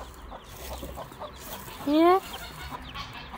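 A Wyandotte hen with five young chicks gives a single clear, loud cluck amid soft peeping and rustling in a coop, with a person speaking quietly in Dutch.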